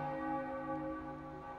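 A church-style bell from the Baldur's Gate II portal ritual rings with a sustained, steady tonal hum that hangs evenly throughout, with no voices over it.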